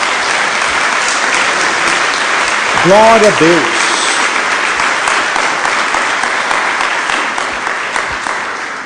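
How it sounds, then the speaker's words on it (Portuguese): A church congregation applauds steadily and loudly throughout, a dense wash of clapping with a brief spoken exclamation near the middle. "Dê uma salva de palmas a Jesus."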